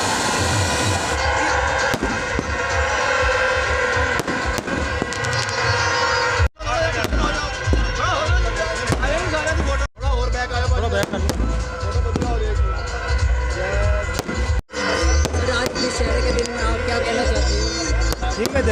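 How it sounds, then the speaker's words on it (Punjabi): Firecrackers crackle and bang continuously in loud, dense bursts at a Dussehra fair outside a temple, with a few brief gaps between volleys. "ਤੁਸੀਂ ਦੇਖ ਦੇਖ ਸਕਦੇ ਹੋ ਕਿ ਪਟਾਕੇ ਚਲਾਣੇ ਸ਼ੁਰੂ ਕਰ ਦਿੱਤੇ ਗਏ ਨੇ"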